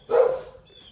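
One short, sharp dog bark close by, loud and quickly fading, with no talking.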